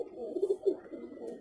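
Pigeon coos in a soft, rolling series of low throaty calls, close by and fairly quiet, with no talking over them.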